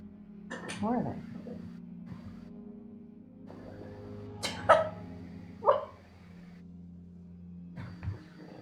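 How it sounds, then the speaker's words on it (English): Dogs give a few short, sharp barks and yips at a distance while a person talks nearby over a low electrical hum. "What are the dogs doing back there? I hear them doing something."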